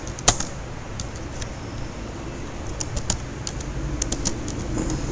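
Clicky keystrokes on a computer keyboard tap out short runs of presses for copy and paste shortcuts and entering text, with a sharp isolated press early and then irregular quick taps, close and fairly faint.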